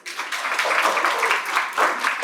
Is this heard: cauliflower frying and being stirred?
no